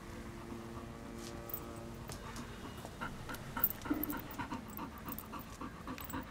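A dog pants quickly and steadily nearby, soft rhythmic breaths with a few faint rustles and clicks in the background.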